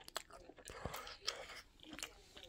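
Close, quiet crunching and chewing of crunchy Burger King chicken nuggets, with irregular bites and mouth sounds.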